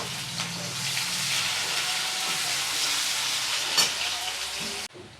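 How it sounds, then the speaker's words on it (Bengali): Onion hits hot oil with a steady, close sizzle that keeps up almost throughout, left over from frying bata fish for a Bengali-style bata macher jhal, and cuts off abruptly at the end. "এই তেলে আমি পেঁয়াজটা দিয়ে দিচ্ছি।"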